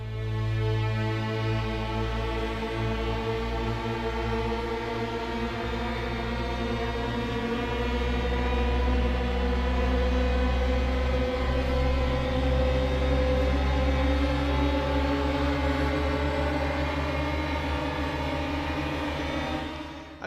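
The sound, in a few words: standard riser sound effect from Occult Audio Rise & Fall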